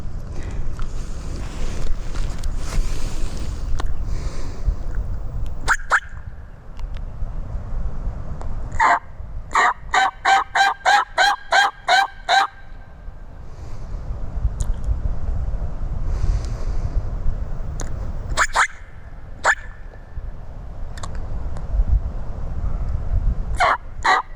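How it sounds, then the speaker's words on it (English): A wild turkey tom gobbling in the deep South, heard as several rapid rattling gobble bursts, some in quick repeated series, fairly distant over steady wind noise on the microphone. "Pretty sure that's our Tom. Oh, he just gobbled"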